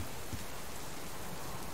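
Steady rain in the survival game Subsistence, a dense, even hiss of drops falling continuously without pause.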